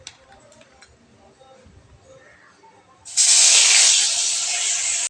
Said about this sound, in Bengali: একটা একটা করে ভেজে নেব।